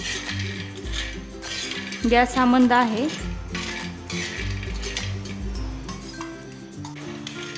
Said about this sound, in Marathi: त्या तव्यामध्ये मी हे सांडगे भाजून घेत आहे